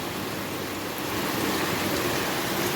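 Steady rain pours down outdoors during the wet season, a dense, continuous hiss of drops close around with no pauses and no voices.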